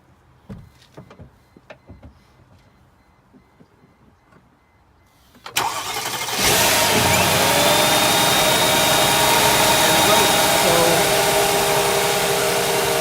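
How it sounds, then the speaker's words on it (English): A few soft clicks and rustles, then a car engine cranks and starts after a belt pulley replacement, settling into a loud, steady idle that continues to the end. "Can you start the car, please?"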